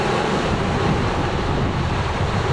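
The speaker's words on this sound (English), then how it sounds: "About 16 knots of apparent wind" Steady, loud rushing wind noise buffets the microphone aboard an Excess 14 catamaran sailing at about 7.5 knots in roughly 16 knots of apparent wind, with waves and surf washing underneath throughout.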